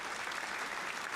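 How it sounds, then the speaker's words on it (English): A brief round of applause from a crowd, a dense, even wash of clapping heard alone and moderately loud. "Round of applause."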